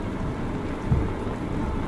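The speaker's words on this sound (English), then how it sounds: "And this is one of those all-day rains." Steady all-day rain falls at Jackson Harbor on Washington Island on a windy morning, making an even, unbroken hiss at moderate level with no voices.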